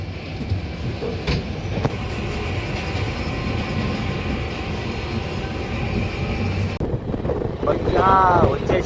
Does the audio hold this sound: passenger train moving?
yes